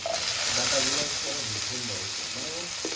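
Drumstick stalks and potato paste go into hot oil, giving a loud, broad hissing sizzle that swells in the first second and then holds steady, while someone talks over it.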